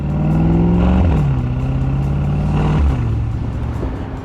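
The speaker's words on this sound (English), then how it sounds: "Now this V8 rumbles like it's a tiger that's snarling" A Mercedes-AMG SL 55 Roadster's V8 engine and exhaust in Sport Plus mode rumbles close by, revving up, easing off, then climbing again in a deep, throaty snarl with no talking.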